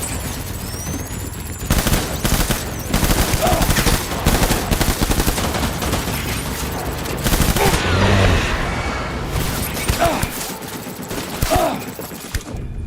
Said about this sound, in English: Who's shooting at me from behind already?